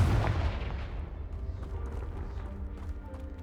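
Confringo fire spell explosion in the game Hogwarts Legacy, a single heavy booming blast that rolls out into a long fading rumble, loud and close.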